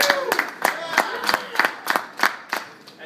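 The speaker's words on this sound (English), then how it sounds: "let's get some clapping" Audience at a live EverQuest fan panel clapping in sharp, evenly spaced claps, about ten in three seconds, with a voice speaking underneath.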